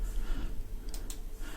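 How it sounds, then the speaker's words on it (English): A push button being clicked in a flight simulator cockpit setup: two quick, light clicks close together near the middle, close-miked against a quiet background hiss. "Pressing the button on the end here, just clicking that down"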